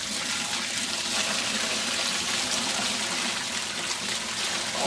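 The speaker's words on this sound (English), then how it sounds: "I'm just going to pour the whole thing in." Compost tea is poured into a bucket of coconut coir in one continuous, splashing stream of liquid lasting about five seconds, close and fairly loud, with no talking.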